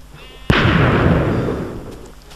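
A Mk II cannon in a video game fires a single heavy shot at a wall: one sharp, loud blast followed by a long rumbling decay that fades over about two seconds.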